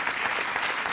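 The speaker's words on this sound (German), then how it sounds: "Großen Applaus für alle Gäste und Shark Shapira." A studio audience at a comedy roast broadcast applauds, with a brief, dense wash of clapping that stays loud and uniform throughout.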